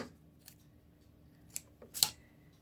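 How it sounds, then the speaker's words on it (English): Scissors trim a wax plant cutting with a few quiet, crisp snips, the last one the sharpest and loudest, in an otherwise hushed setting. "So I'm going to make that, I'm going to trim that one right about there"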